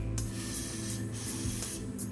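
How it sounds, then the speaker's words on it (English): Lysol disinfectant aerosol sprayed in a few short hissing bursts, close and steady over a low background hum, with no talking. "I got some Lysol spray here"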